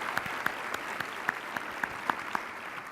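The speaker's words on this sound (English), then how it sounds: "should we clap?" Sparse, scattered clapping from a small audience at an awards gala, a few distinct claps spaced unevenly over a soft background hiss.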